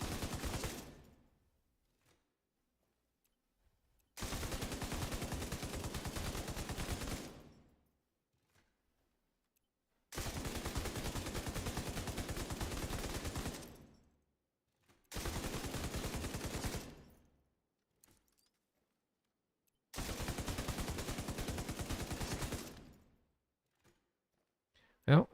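Light machine gun fire in a video game, in five sustained bursts of roughly three seconds each, separated by silent gaps, loud and dense with rapid rounds.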